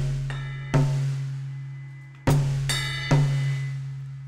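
Close drum kit strokes in a loose three-note triplet figure played with the left hand, each hit ringing out under a sustained low tone, with no talking.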